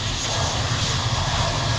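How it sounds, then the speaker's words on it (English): Default airplane engine sound from the Train Simulator video game, a steady, loud, broadband roar that drones on without a break. "Those default plane sounds."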